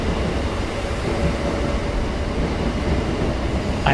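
A steady rumbling of a video game train rolling along the track fills the whole stretch, even and continuous with no voices.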